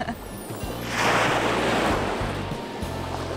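Steady wash of sea surf along a coastal path, swelling and fading, with wind buffeting the microphone and a low hum underneath.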